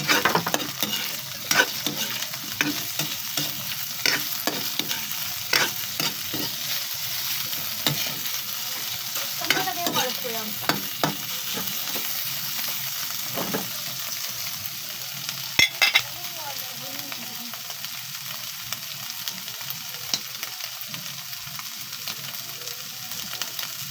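Boneless chicken pieces fry and sizzle in a pan while being stirred for a sautéed eggplant and misua dish, with steady close crackling and repeated scraping stirs throughout and no talking.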